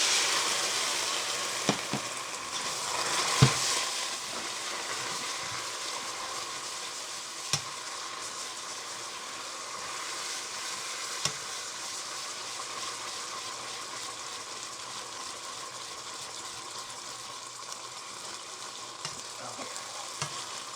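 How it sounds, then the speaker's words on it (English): Rice sizzling in a risotto pan after white wine is poured in to deglaze, a continuous bubbling hiss with occasional clicks and spoon taps, no talk. "So what I just added in there was the white wine to kind of deglaze."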